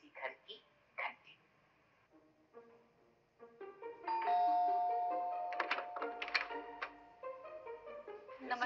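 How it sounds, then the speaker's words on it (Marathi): A house doorbell ringing with a clear sustained electronic chime, preceded by a few brief taps and followed by quiet room noise. "और अब चलिए बजाते हैं किसी घर की घंटी।"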